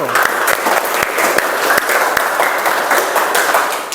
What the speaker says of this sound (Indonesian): Kita beri aplaus dulu untuk kita semua karena berhasil